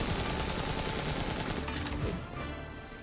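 Rapid gunfire in the action game NieR: Replicant, a loud dense burst of machine-gun style shots that rattles on and then thins slightly near the end, without speech.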